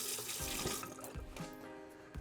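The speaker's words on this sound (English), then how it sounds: "This now just gets rinsed off." AeroPress coffee maker parts rinsed under a running kitchen tap, a steady close splash of water with small clatters as the pieces are turned in the stream.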